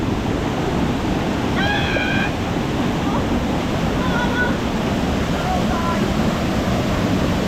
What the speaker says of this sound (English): That is strong water